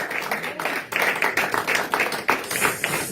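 A church congregation applauds with a dense, steady patter of close hand claps that swells and fades in waves over a few seconds.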